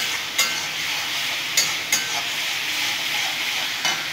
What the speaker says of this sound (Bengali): এখানে আদা, রসুন আর শুকনো লঙ্কা আর কাঁচা লঙ্কা, 3-4টা লঙ্কা আছে, শুকনো লঙ্কা, কাঁচা লঙ্কা আছে দুটো, ভালো করে কষে নেব